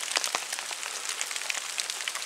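Rain falling on a wooded hillside burial mound, a soft steady patter with scattered sharper drops, fairly quiet and alone.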